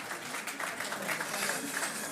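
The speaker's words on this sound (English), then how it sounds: "So give him a he for she round of applause" Crowd applause at a International Women's Day celebration, a steady, dense wash of clapping from an audience for the Deputy Governor, sustained and even throughout.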